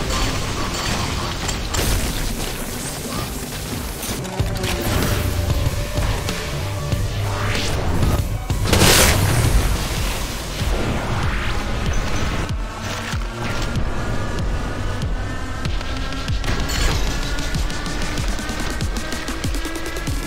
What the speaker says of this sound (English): The Ion Cannon is badass, so imagine my reaction when I saw it featured as a weapon in Turbo Overkill.